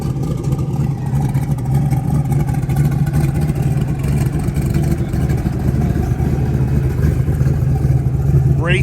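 A Camaro's engine runs steadily and revs in a low, throaty drone at close range, holding a continuous rumble with a slight clatter throughout.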